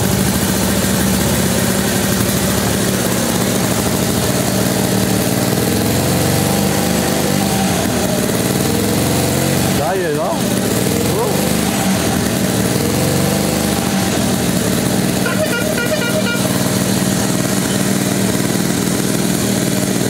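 A 1925 Thomann motorcycle engine running steadily on fresh fuel, a loud, close, continuous light-engine drone near idle with a brief revving swell midway and no talk over it.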